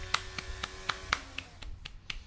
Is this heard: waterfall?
no